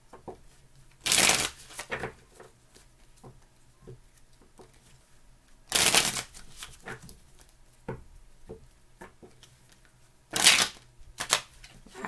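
Tarot cards being shuffled in three separate bursts of quick riffling and fluttering, with soft handling noises and quiet pauses between them.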